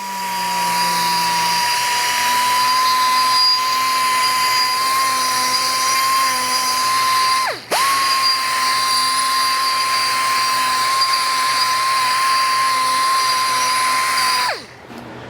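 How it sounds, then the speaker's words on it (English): A die grinder with a burr cleans up the ends of a shortened Bondioli imported driveline, giving a loud, steady high-pitched whine that runs twice, with a quick spin-down between the runs and at the end. "So just get a nice burr on your die grinder."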